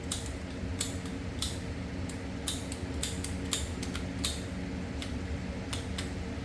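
Sharp, crisp snips ring out about a dozen times at irregular intervals as a hose is cut to size for a 460 engine intake manifold installation, over a low steady background hum.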